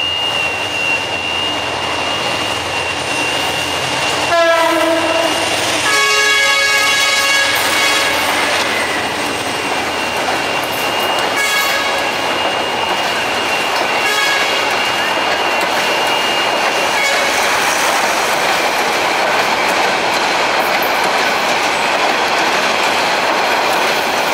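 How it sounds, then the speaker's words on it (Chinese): A train rolls along a railway line in Bangladesh with a steady, loud rumble and rhythmic clatter of wagons over the tracks. A horn-like tone rises briefly early on. "红灯的，又有火车来了"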